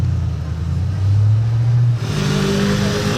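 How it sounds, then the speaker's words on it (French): An Audi RS6 Performance on a street in Juan-les-Pins revs hard and loud up close, its engine note climbing and holding a rising drone before dropping back to a deep rumbling idle. "Cette RS6 Perf, elle fait vraiment un gros bruit."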